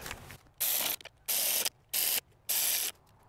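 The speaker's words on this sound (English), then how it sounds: "Now let's bolt our manifold down." Four quick bursts of ratchet clicking tighten the intake manifold nuts on a Toyota Avalon. Each burst is close and crisp and is separated by brief pauses.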